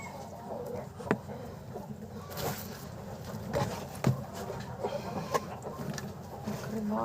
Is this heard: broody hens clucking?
yes